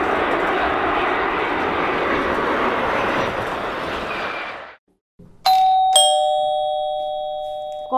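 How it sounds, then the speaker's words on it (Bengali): A household calling bell rings with clear, ringing electronic chime tones that hold and slowly fade, following a steady broad rumble that cuts off just before the bell sounds. "কলিং বেল বাজছে"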